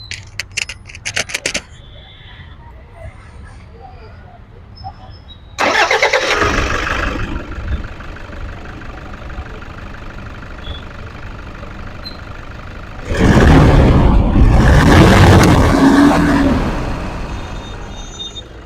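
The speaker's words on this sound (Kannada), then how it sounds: "ಇವಾಗ ಇಂಜಿನ್ ಸ್ಟಾರ್ಟ್ನು ಕೂಡ ಮಾಡ್ತಾ ಇದ್ದೀನಿ. ಸೌಂಡ್ ಕೇಳೋಣ, ಇಂಜಿನ್ ಸೌಂಡ್ ಹೆಂಗಿದೆ ಅಂತ." Silver 2011 Toyota Fortuner 4x4 diesel, single owner, starting up: a few key clicks and faint noises, then the engine cranks and settles into a steady idle, a second start partway through, loud and close.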